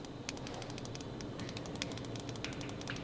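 Buttons on a Razer Kishi V2 mobile gaming controller click in a rapid, irregular patter of small sharp taps, fairly faint over a low background hum.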